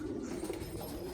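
Pigeons cooing on a cloudy morning: a steady, soft, low cooing drone throughout, faint and slightly distant, with no talking.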